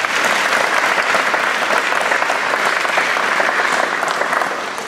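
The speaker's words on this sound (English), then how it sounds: "another round of applause would be" An audience at a 2015 wallhanger and toolkit launch event claps in a dense, sustained wash of applause that holds steady and fades slightly at the end.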